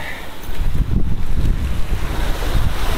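Continuous rushing surf and wind noise buffeting the microphone, a steady broadband roar of sea waves close by at Bato Beach, Polillo Island, Quezon, with no voices.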